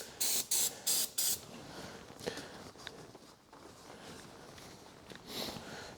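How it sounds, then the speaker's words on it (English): Brake cleaner sprayed onto a John Deere lawn tractor during an oil change: four short, sharp aerosol bursts in quick succession, then quieter handling noises and a few faint taps, with no talking. "Got a little bit of brake clean. Just gonna clean this mess up a little bit."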